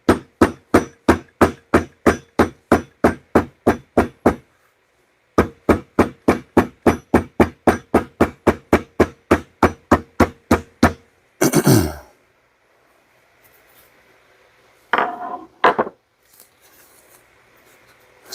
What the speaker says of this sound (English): I'm using a very smooth, polished hammer on this